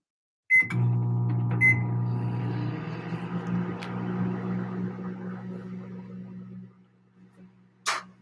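A microwave oven hums steadily with a low, constant drone, then winds down and stops, followed by a short beeping near the end.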